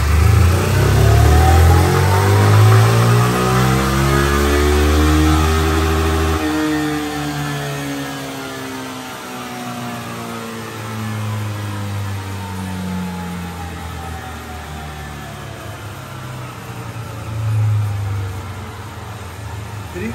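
A Formula Racing motorcycle engine on a power test dyno revs hard, then winds down in a long, falling deceleration with a brief blip near the end, loud and close, with someone talking over it.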